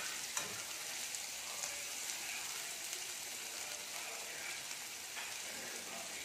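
Onions frying in a pan for sooji upma, a soft, even crackling sizzle that holds steady with a few tiny pops, fairly faint.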